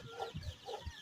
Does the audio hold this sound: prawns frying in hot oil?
no